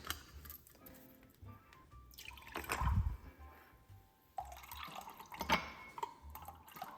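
Pineapple juice poured into a measuring cup in a kitchen, with soft trickling and dripping splashes in a few short bursts, close and fairly quiet.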